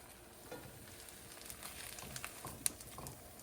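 Eggs frying in a pan, a faint, steady sizzle with soft crackles and pops spread over a few seconds, no voices.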